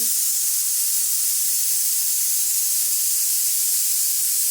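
Lentil dumplings (bori) boil in a cooking pot, giving a steady, loud, close hiss of steam and bubbling that carries on unchanged throughout with no voices.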